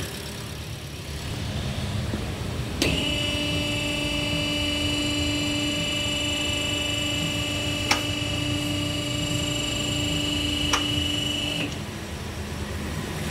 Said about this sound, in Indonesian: suara mesinnya halus setelah tali kipas atau vandelnya dicopot